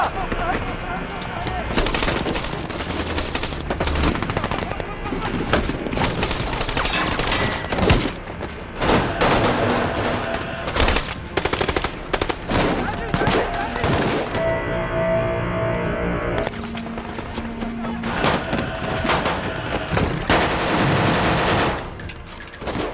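Dense gunfire in an action film battle between a SWAT team and ISIS fighters, with rapid machine-gun bursts, sharp single shots and heavy thumps of an RPG attack, loud and nearly continuous.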